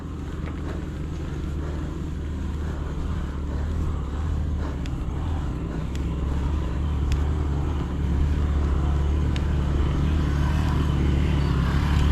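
A group of motorcycles on a mountain trail on Mt. Oro via Macabud, a steady close engine rumble and drone that swells slightly toward the end, with no voices.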